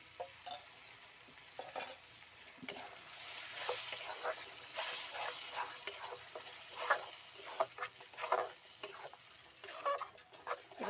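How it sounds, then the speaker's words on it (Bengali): Spinach and green chillies being stirred in a pan for palak paneer, with soft irregular scrapes and a low sizzle of moisture cooking off, fairly quiet and close, with no talking. "এবার একটু নাড়াচাড়া করি"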